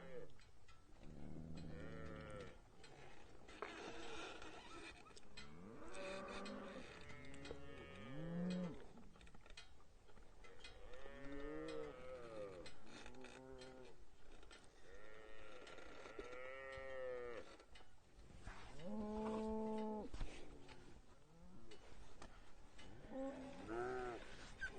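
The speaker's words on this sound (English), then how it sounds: "Moving cows into a new pasture." Many cattle moo and bellow repeatedly while being moved into a new pasture, overlapping calls from several animals nearby, loud and continuous with an open outdoor feel.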